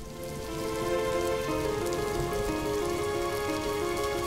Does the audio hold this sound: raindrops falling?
yes